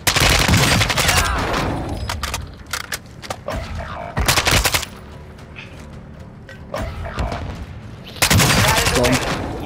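Rapid automatic gunfire and bursts of shots from a Call of Duty: Modern Warfare II match, loud and close, coming in several heavy volleys with brief lulls between them.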